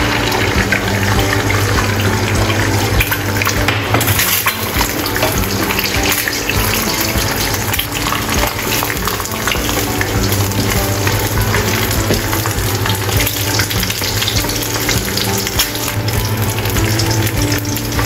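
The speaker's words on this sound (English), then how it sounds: "Let's fry egg." Egg frying in a pan for a salted egg king oyster mushroom soup, with a loud, dense, continuous sizzle and hiss that runs steadily for the whole stretch, with no talking.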